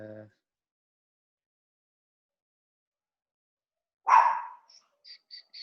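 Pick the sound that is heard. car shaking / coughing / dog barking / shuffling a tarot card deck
dog barking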